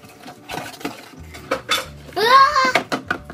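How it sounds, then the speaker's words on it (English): Cake batter stirred in a bowl for a 4th of July cake, with clinking of a utensil against the bowl under children's voices chattering close by. "Now, Joe, it's your time to stir."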